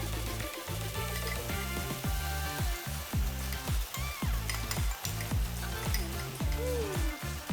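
Edamame beans with a garlicky sauce sizzling and frying in a pan, a loud continuous crackle broken by rhythmic scraping stirs, close up with no talk.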